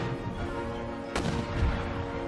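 Cannons in Empire Total War firing round shot at mortars in a city centre during a siege, with a sharp, loud boom midway through over a steady rumble of battle noise.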